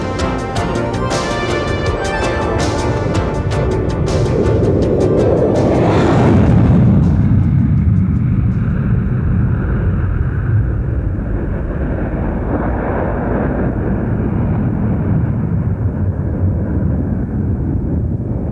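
A Lockheed SR-71 jet aircraft in flight, a loud roaring rumble that swells to a booming peak as it passes close, then settles into a broad, fading engine roar with buffeting wind noise.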